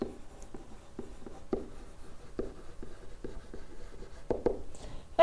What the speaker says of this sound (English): So let's write in the end behavior.